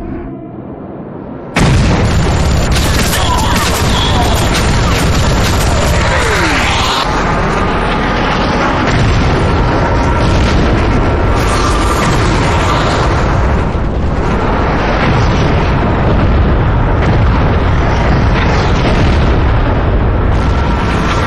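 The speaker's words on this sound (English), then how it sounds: "Rogue! Airstrike!" Airstrike in Rogue Trooper Redux, a sudden heavy wall of explosions that bursts in abruptly and rumbles on continuously at high loudness, dense blasts and crackling debris filling the whole stretch.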